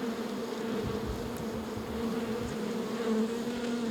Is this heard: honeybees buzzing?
yes